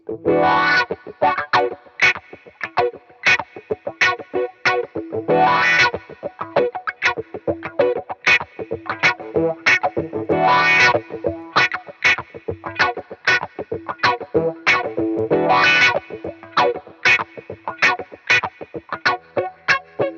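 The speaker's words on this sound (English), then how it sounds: "Then you've got the wah pedal for lead guitar." Distorted electric guitar played through a wah pedal in quick, choppy notes with a sweeping, vocal-like filtered tone that opens and closes, loud and close with no talking.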